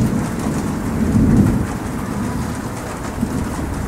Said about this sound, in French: cette année, les pluies ont été très abondantes